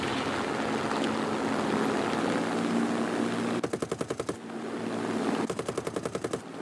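Aircraft machine guns firing from a Hurricane fighter in War Thunder, two rapid bursts of rattling fire cutting through a steady loud engine drone, each lasting about a second.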